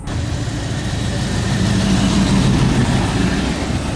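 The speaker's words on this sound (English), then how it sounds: "the 1959 Cadillac Cyclone" A 1959 Cadillac Cyclone concept car's engine idles in an even, close, low rumble that stays constant for several seconds, with no voices over it.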